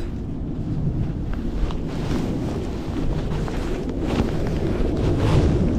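Wind gusts across a microphone at a riverside sea bass fishing spot on the Old Edogawa River, making continuous rough, blustery rumble that builds slightly toward the end, with no speech.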